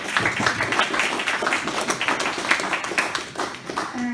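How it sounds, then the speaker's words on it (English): An audience at a local history talk claps steadily in a moderately loud, sustained round of applause. "So just a round of applause again for Deirdre there."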